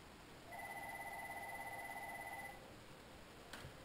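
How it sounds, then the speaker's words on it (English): A telephone rings indoors in a quiet room, a single two-second burst of bright trilling electronic tones, fairly soft, followed by a faint click and stillness. "Phone's ringing."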